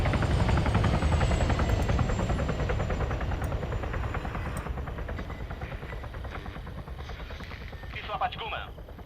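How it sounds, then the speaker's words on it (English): A helicopter in the video game ArmA 3 flying overhead, a loud continuous rotor thump that slowly fades as it passes. "You hear that? Sounds like a helo."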